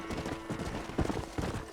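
Horse hooves clip-clopping in Red Dead Redemption, a brisk, rhythmic run of hoof beats at close range with a slightly heavier thud midway.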